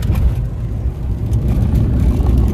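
Low, steady rumble of a Toyota Fortuner driving, engine and road noise droning without a break.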